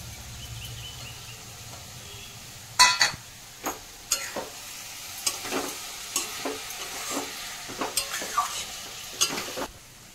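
Potatoes tossed into frying cabbage in a pan, with a sharp clatter followed by a series of spatula scrapes and clinks over a soft sizzle, all close by.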